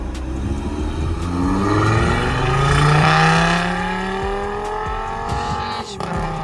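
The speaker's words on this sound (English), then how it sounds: "The guys are gonna do some pulls for us now." Cars lined up at a summer auto fest accelerate hard one after another, engines revving and climbing steadily in pitch through the gears, loud and close, with a few sharp knocks and short voices near the end.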